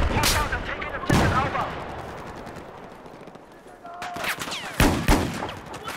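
A Desert Eagle pistol in Battlefield 4 fires several sharp, loud shots at uneven intervals. Distant battlefield gunfire runs in the background, and someone talks between the shots.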